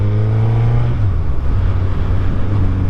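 A 2023 Suzuki Hayabusa motorcycle pulls hard under continuous throttle with clutchless shifts, its engine droning loudly and steadily with a shift in pitch partway through, close up amid wind noise.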